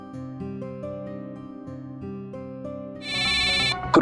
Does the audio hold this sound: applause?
no